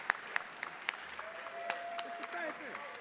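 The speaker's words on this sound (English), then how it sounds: "Ladies and gentlemen, I need you to start clapping for my man, Naim Lynn" An audience at a celebrity comedy roast dinner claps steadily throughout, the applause moderately loud, while someone talks over it with scattered whoops rising above the crowd.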